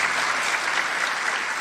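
A church congregation applauds during a sermon, a steady, dense clapping that fills the space evenly from start to finish with no voices over it.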